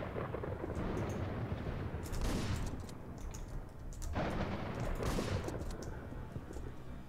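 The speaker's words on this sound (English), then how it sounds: "The shotgun isn't that fast, but it's kind of accurate since it will spread the pellets." Shotgun blasts in the top-down action game Hotline Miami 2, two or three loud booming bursts spaced a couple of seconds apart over a dense, continuous game soundtrack.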